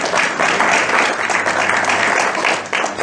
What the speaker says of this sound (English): I think that's worth a round of applause as well.